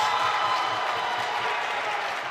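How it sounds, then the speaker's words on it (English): A crowd at a college basketball game between Dayspring Bible College and Kuyper College JV cheers and applauds, a steady, fairly loud wash of clapping and voices throughout the brief stretch. "Crowd's getting into it."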